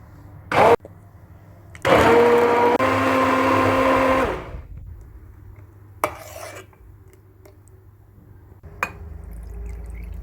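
A hand blender purees cooked pumpkin in short loud whirring bursts, one brief and one lasting about two seconds, followed by quieter clinks and knocks of the container.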